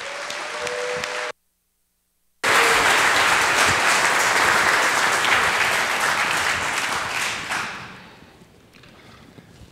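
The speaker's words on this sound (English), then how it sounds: "would you guys please welcome, rousing Wingmen round of applause for John Tolson." A men's ministry event audience bursts into loud, sustained clapping after a brief silence, holding strong for several seconds before fading away toward the end.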